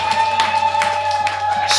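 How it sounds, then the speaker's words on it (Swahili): A church congregation claps for Jesus during a worship service, a run of loud, quick handclaps with a steady electronic hum underneath and a few voices mixed in. "Pigie Yesu makofi"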